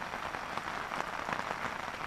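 Steady rain patters on a tent, a soft, close, dense drumming with scattered louder drops and no voices.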